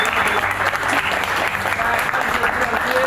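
An audience applauds athletes at a gathering of Azerbaijan's sports champions, steady dense clapping filling the whole stretch without a break, loud and close.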